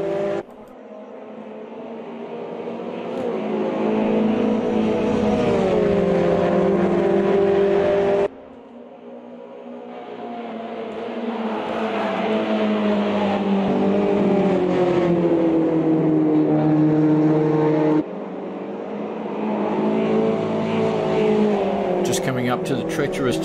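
A Ginetta G40 GT5 race car engine drones loud and close from inside the car on a back straight, rising in pitch through each gear before abrupt upshifts, with a driver talking over it.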